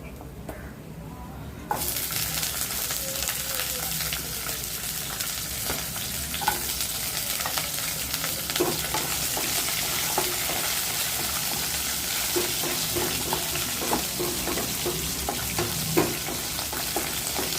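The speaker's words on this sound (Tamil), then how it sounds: "சாம்பார் வெங்காயம் நல்லா வதங்கி வரட்டும்" Shallots sauté in a pan for a Tamil fig curry, giving a steady broadband sizzle after a short quiet lead-in, with scattered stirring clicks and scrapes throughout and no voices.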